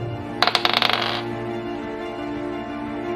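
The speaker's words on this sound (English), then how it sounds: "I'm gonna roll the crappy dice." Dice rolled onto a table during a tabletop tournament match, a quick burst of bright clattering rattles and bounces lasting under a second, then settling into quiet room tone.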